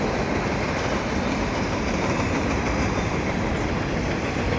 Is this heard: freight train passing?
yes